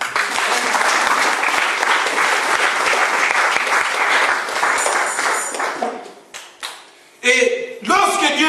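A church congregation breaks into loud, sustained applause and cheering for about six seconds, then it fades into scattered shouts and voices.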